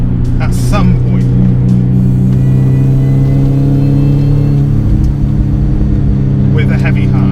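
A 2000s R53 Mini Cooper S supercharged engine drones steadily from inside the car while driving, a loud, even mid-pitched hum with a faint rise in pitch, and a person talks over it.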